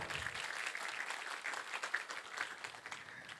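Faint, steady applause from an audience welcoming a guest speaker onto a stage at a morning event, continuous clapping heard from a distance.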